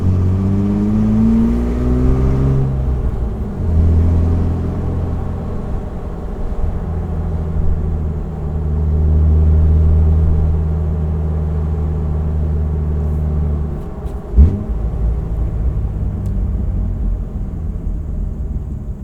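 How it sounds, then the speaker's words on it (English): A Jeep Wrangler TJ with its muffler deleted drives along with a steady, droning exhaust rumble, its pitch rising and falling with gentle throttle changes and one brief thump midway, close and fairly loud with no talk. "think the muffler delete sounds awesome."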